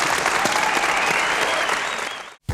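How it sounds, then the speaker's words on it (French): Loud, steady applause from a French TV talk-show studio audience, dense clapping that fades into a brief silence near the end, with no talking. "On t'applaudit encore"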